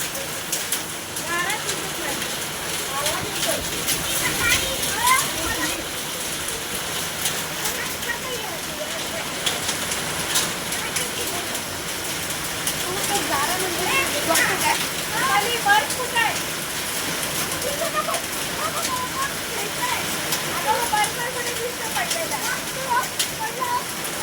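Hail and heavy rain pound down in a steady, dense clatter with scattered sharp impacts, close and continuous throughout, while voices talk faintly underneath.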